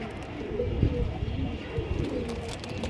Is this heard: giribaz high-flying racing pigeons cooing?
yes